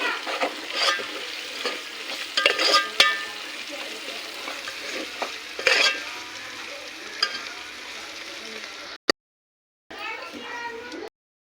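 Tripe (boti) frying with onions in a pan, stirred with repeated utensil scrapes over a steady close sizzle, cutting off briefly near the end before the sizzle returns.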